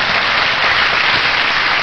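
A crowd at a live public broadcast of a Korean radio show claps loudly and continuously, a thick, steady wash of applause close to the microphone with no speech over it.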